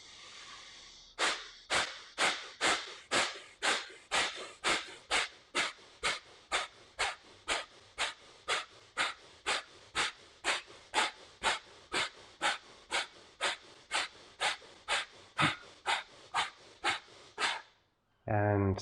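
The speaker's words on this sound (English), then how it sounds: "And slow breathing, wonderful" Slow, deep rhythmic breaths during a pranayama exercise, about thirty evenly spaced inhale-exhale pulses, close and clear against a quiet background.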